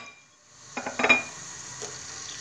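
Onions go into hot oil in a cooking pot with a quick clatter of utensils and pan, followed by a soft, steady sizzle.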